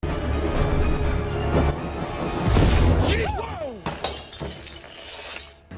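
Glass shatters loudly in a film scene from Final Destination: Bloodlines, a bright crashing burst with scattering shards and tinkling debris, followed by further sharp impacts over a busy movie soundtrack.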